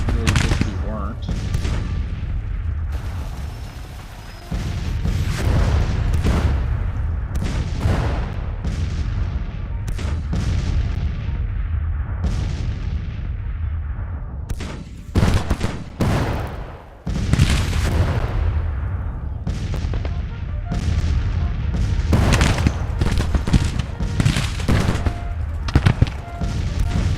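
Artillery fire in the Civil War strategy game Grand Tacticians: repeated heavy booms and cannon blasts with crackling volleys of musketry, loud and continuous, with near and distant shots overlapping for nearly half a minute.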